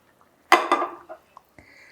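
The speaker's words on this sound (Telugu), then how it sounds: "ఇదిగోండి చేప ముక్కలు వేసేస్తున్నాను" Pieces of salted fish drop into a pot of simmering brinjal curry, giving a brief clatter and knock of metal, then a couple of small clinks before a faint tap.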